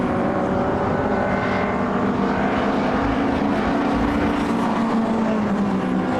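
Historic racing cars in the London Historic Trophy sweep past on the circuit in a continuous loud engine roar that swells slightly as they approach, with no talking over it.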